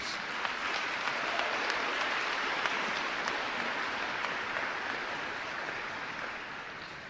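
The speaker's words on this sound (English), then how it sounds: "Give yourself a round of applause, please." Sustained applause from Keiser University's class of 2021 graduates at their commencement ceremony, a dense, steady wash of clapping from a large crowd that holds for several seconds and tapers slightly at the end.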